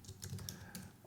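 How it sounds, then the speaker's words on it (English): Fingers type on a computer keyboard in a quick run of light, crisp key clicks, close but quiet, with no one talking. "using your mouse and keyboard start"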